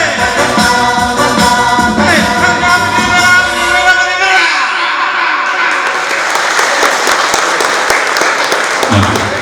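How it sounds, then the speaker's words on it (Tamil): An audience claps loudly and continuously at the launch of the new Swift at a car dealership in Vellore; music plays under the applause at first, then the clapping carries on alone with scattered cheers. "கைத்தட்டல் சத்தம் பத்தல அப்படின்னு நாங்க நினைக்கிறோம்."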